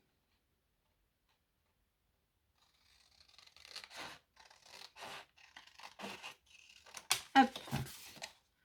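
Scissors cutting material for a homemade Mother's Day jewelry holder at a cluttered desk. After a silent start come a series of quiet, close snips and crisp scratchy cuts, with a brief spoken word near the end.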